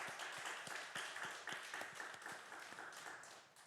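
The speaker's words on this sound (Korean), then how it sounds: "우리 하나님 앞에 영광의 박수를 올려드립시다." Church congregation clapping during a Sunday worship service, a loose, moderately quiet patter of hand claps with sharp individual claps standing out, heard at a slight distance.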